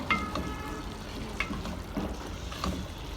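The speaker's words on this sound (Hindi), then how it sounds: "इसको अच्छे से हम मिक्स करेंगे कीमे में" Cubed capsicum being stirred into minced meat and potatoes frying in a pan, with a steady soft sizzle and scattered scraping and clinking of the spoon, no talking.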